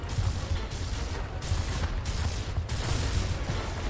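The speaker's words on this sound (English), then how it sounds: "There's a fucking turret in here." Turret gunfire in Gears of War: sustained, loud rapid-fire bursts forming a dense, continuous mechanical clatter with brief rhythmic dips, nothing else over it.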